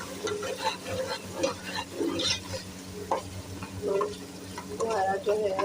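Masala frying in a pan for arbi salan sizzles steadily while a spoon scrapes and stirs it in repeated strokes, with someone talking over the cooking.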